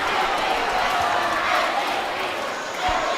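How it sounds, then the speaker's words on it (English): Dense, steady roar of a Flatbush crowd screaming at a varsity high school basketball championship game, continuous and loud throughout with no lulls. "And the Flatbush crowd screaming."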